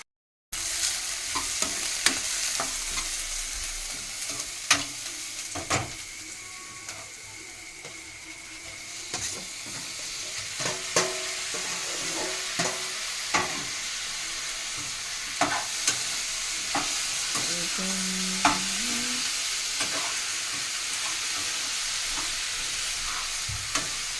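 Brinjals and tomatoes frying in oil in a pan, a steady sizzle throughout with frequent sharp clinks and scrapes of a spoon stirring, no talk.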